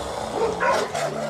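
A Karelian Bear Dog gives a short bark or two, fairly close and muffled, over a steady low background hum.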